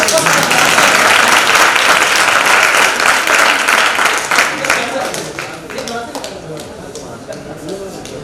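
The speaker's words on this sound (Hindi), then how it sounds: "एक बार ताली बजाओ।" Audience applause at an award ceremony for a Sanskrit academy honour, loud dense clapping filling the hall at first, then thinning and fading into scattered claps with voices underneath.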